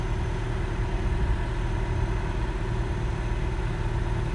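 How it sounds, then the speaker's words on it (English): A 2021 Toyota hybrid starts up in EV mode, giving a steady low hum with a faint constant electric whine, even and unchanging throughout with no voices. "So there's the engine starting. I started it. It started obviously in EV mode."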